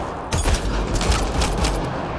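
Squadmates open fire in Mass Effect Andromeda: a rapid, sustained burst of gunfire with crackling shots in quick succession, loud and close for about two seconds.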